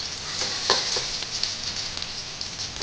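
Chopped onions sizzle in hot oil in a wok, a steady loud hiss with small crackling pops, close up and uninterrupted.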